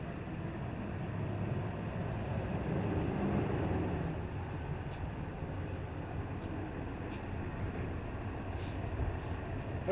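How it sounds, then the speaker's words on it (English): A heavy truck rumbles past on a roadway, its low engine drone swelling to a peak and then fading as it moves away, with faint high hissing tones near the end. "Oh, I hear a truck."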